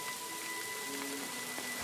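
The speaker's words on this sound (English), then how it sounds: "Man, it's pouring." Heavy downpour in the medieval game Kingdom Come Deliverance 2, a steady wash of rain noise hissing evenly on surfaces throughout, with faint tonal game sounds underneath and no talking.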